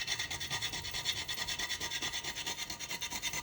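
Nutmeg grated by hand for a cacao, black cherry and sultana cake, a close rhythmic rasping with quick regular back-and-forth strokes throughout.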